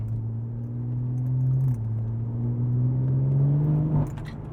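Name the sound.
BMW M140i accelerating hard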